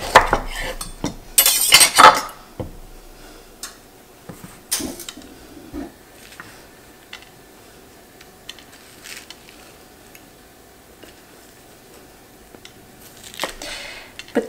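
A knife cutting a root vegetable in half for roasting, giving a few sharp knocks and clacks on a board early on, then sparse soft taps and handling noises in a quiet kitchen.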